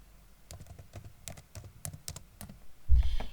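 Someone types a document name on a computer keyboard, a quick run of light, irregular key clicks with a louder thump near the end.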